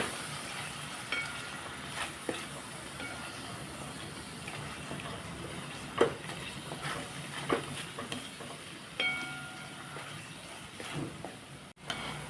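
Diced potatoes and capsicum with salt, turmeric and coriander powder sizzle quietly in a pan while being stirred, with a soft continuous fry and occasional scraping taps of a spoon.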